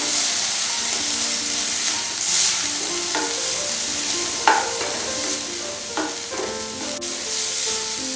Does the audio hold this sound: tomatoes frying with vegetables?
yes